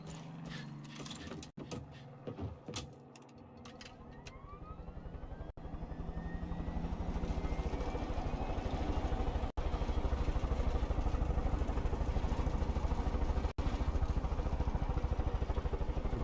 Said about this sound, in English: Helicopter it is.